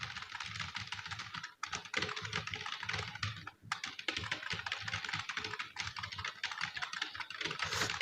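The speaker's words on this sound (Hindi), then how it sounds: "जल्दी से कुछ टाइप कर लेते हैं।" Steady, fast typing on a computer keyboard while entering text in a word processor, a dense run of close, crisp key clicks with a couple of brief pauses, continuing for several seconds without voices.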